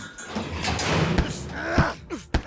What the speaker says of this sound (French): Le gardien sort ses clés et leur ouvre la porte.